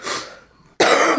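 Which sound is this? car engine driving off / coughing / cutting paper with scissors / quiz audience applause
coughing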